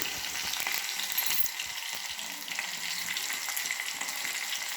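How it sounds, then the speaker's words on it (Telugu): Onions frying in hot oil for potato curry, a close, steady hissing sizzle with faint crackles, continuous and alone without talk. "ఆయిల్ వేడెక్కిన తర్వాత ఇప్పుడు ఆనియన్స్ అనేది వేసుకుంటున్నాం"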